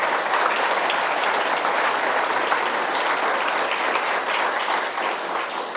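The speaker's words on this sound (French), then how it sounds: "Alors, on peut les applaudir de nouveau," A conference audience applauds loudly and steadily, dense clapping filling the room for several seconds before easing slightly toward the end.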